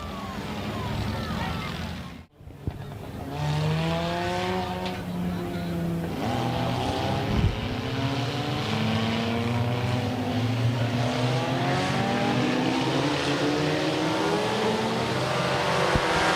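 Stock cars race around a speedway oval, with engines droning and rising as they pass, heard continuously and loud against a distant crowd.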